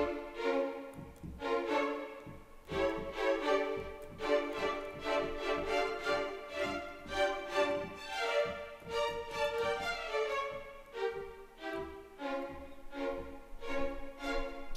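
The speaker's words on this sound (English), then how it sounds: "And then you get staccato." Section of violins from the 8Dio Adagio library playing short, detached staccato notes in a quick, steady rhythmic line, soft and distant in level with no talking.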